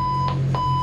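A Garmin VHF marine radio's alarm beeps aboard a Jeanneau NC 895 Weekender boat, a steady electronic tone with short repeated pulses, fairly loud over a low engine-like hum.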